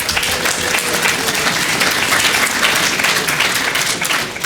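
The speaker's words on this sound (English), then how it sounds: "Can we have a round of applause, please, for Peter?" A crowd at a radio day event applauds steadily, a dense wash of clapping hands that stays loud throughout.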